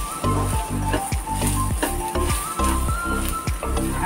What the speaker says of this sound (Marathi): आता इथे बघा आपला कांदा झालेला आहे। अजून 2 मिनिटं थोडा भाजून घेते।